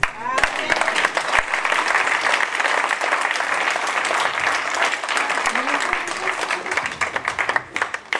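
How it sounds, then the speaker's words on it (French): Sustained audience applause at the close of a public conference address, a dense, steady wash of many hands clapping for the full length, with a few voices mixed in beneath. "On applaudit bien fort."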